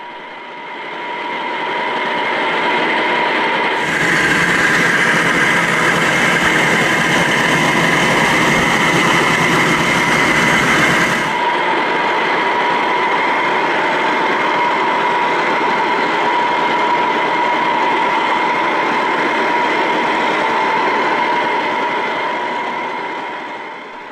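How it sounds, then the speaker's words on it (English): Two diesel locomotives idle together in multiple at an engine terminal, giving a loud, continuous rumble with a steady hum and a brief extra hiss partway through. "Here we see two of the company's single outline locomotives working in multiple, waiting in the engine terminal for a fresh driver"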